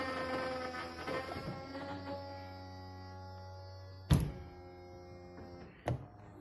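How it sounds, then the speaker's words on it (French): Hydraulic pump of a used convertible's folding roof straining as the rear section lifts, a steady whining hum with harmonic tones that slows and holds, broken by two sharp mechanical thunks near the end. "Surtout quand l'arrière se relève, qu'on demande vraiment à la pompe de donner toute sa puissance."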